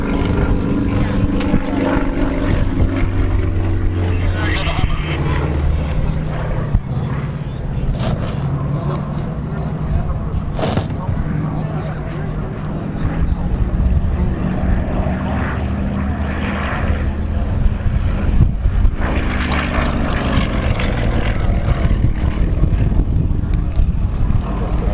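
A propeller aerobatic plane performs manoeuvres with rudder and radius turns, its engine droning steadily and loud throughout with pitch swells, while a commentator talks over it.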